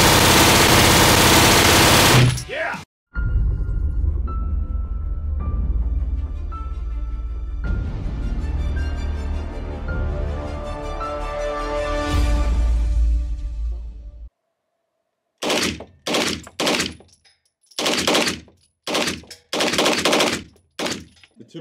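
An MP5 submachine gun firing full auto at an indoor shooting range: a long, loud, sustained burst, then after a pause a string of short, sharp bursts, with no talking.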